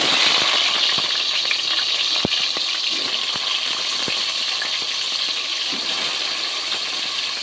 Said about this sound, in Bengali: তেল আমার গরম হয়ে গেছে এখন আমি তুলে দেব কেটে রাখা আলু